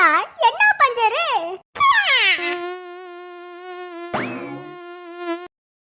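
A cartoon mosquito hums in a high, steady, tonal whine that holds for a few seconds, then rises in a short swoop and carries on. Animated character voices chatter just before the buzz begins.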